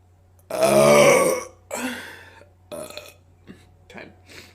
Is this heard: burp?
yes